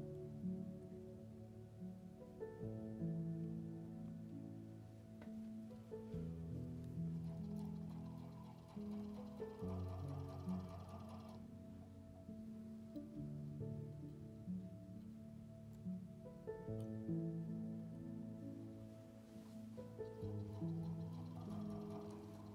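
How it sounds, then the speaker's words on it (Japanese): Sewing machine stitching along a marked line on a fabric tote bag, a faint steady whirring hum running continuously with slight changes in pace. "線の上をミシンで縫います。"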